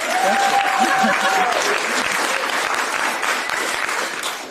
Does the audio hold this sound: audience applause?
yes